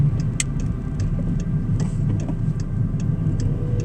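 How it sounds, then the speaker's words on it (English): Steady low engine rumble from an old car idling or driving, continuous and fairly loud, with faint periodic ticking on top and no talking. "Old car, so the sound is horrific,"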